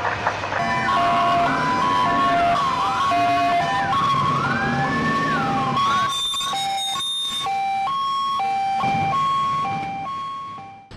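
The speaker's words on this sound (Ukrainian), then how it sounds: "Військова тривога, військова тривога." Wailing emergency siren sounding a military air-raid alert near a nuclear power plant town in Ukraine, loud rising and falling tones layered with other sirens, continuous for the whole stretch with no voices.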